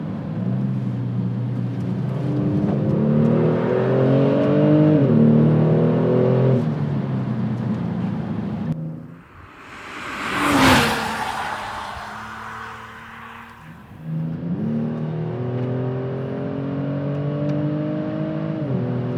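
A modified Kia Stinger engine revs up through rising gear pitches as it accelerates through corners, a whooshing pass briefly interrupts, then the engine accelerates again with climbing tones.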